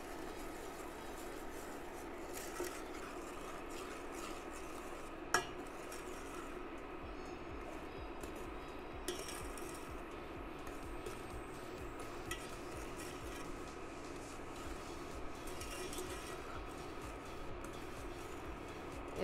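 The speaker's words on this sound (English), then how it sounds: "we're just gonna give this a stir until that sugar becomes dissolved" Steady soft scraping and swishing of a spoon stirring sugar into a melted butter and nutmeg mixture in a pan over medium-low heat, with a few faint clinks against the metal, continuous and quiet with no talk.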